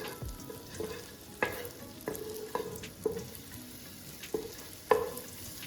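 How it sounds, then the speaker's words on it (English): Garlic frying in melted butter in a saucepan over medium heat, a steady soft sizzle broken by about seven sharp clicks of a utensil against the pan, close and fairly quiet with no talking. "Once the butter has melted, add the garlic and fry for 30 seconds to release the flavor."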